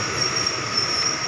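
A Thai express train halts at a station, giving a continuous rolling rumble of rail cars with a thin, sustained high wheel squeal running through it, heard alone without voices.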